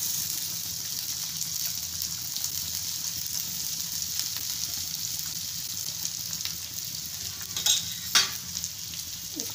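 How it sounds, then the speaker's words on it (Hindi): Green chillies, garlic and onion sizzle and fry in hot oil in a pan for momo chutney, a steady close crackling hiss with a couple of brief louder clatters near the end, no talking. "प्याज को भी डाल देंगे।"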